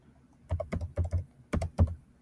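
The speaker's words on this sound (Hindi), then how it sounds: "मान लीजिए मैं यहाँ पे टाइप कर देता हूँ" Typing on a computer keyboard while searching for products on Amazon: a brief burst of distinct, close key clicks in an uneven rhythm, with no talk.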